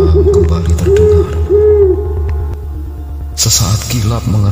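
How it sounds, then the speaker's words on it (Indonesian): A night bird calling near a village graveyard, three low hooting calls repeating at a slow, even pace over a deep rumbling ambience, followed by a sudden brighter burst of noise. "Suara burung malam kembali terdengar."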